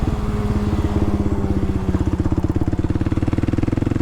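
A KOXL 300 Supermoto motorcycle rides along back roads, its engine droning loud and close with a steady throbbing pulse and no talk over it.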